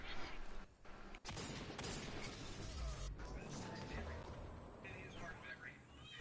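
Sniper gunfire in the video game Destiny 2, a few sharp distant shots over a dense, noisy game soundscape, with a voice talking over it.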